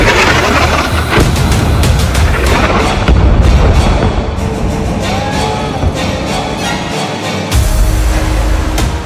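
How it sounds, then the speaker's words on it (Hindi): Smart bomb strikes hit and destroy a building in an Israeli attack on Hezbollah, producing loud, heavy booms and rumbling blasts that repeat and overlap in a dense, continuous barrage. "स्मार्ट बम से पिन पॉइंट हमले में भस्म हो गई बिल्डिंग।"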